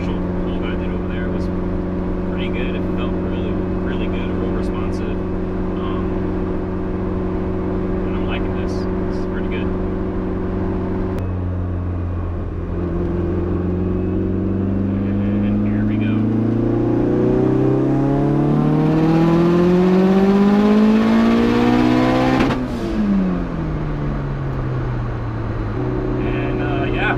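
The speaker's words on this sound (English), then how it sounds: "guys heard the little backfire, which was perfect" A tuned car with a 6266 turbo on a stock-block engine revs hard at wide-open throttle, its harmonic whine climbing then dropping sharply on lift-off, with a faint pop at the end, close and loud under intermittent speech.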